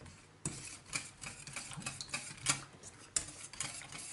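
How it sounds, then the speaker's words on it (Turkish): Cocoa pudding mixture being stirred in a pot on the stove for a chocolate birthday cake, repeated spoon scrapes and light clinks against the pot over a faint background hiss. "Bu malzemeyi karıştırarak muhallebi kıvamına gelene kadar pişirelim"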